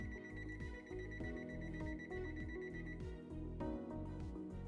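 A rapid series of repeated electronic beeps chirps on in a steady pattern, clear and close, with no voices.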